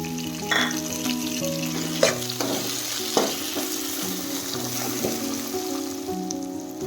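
Greens and tomatoes get stirred in a frying pan, a gentle crackling sizzle broken by a few sharp spoon scrapes and clinks, with light background music underneath.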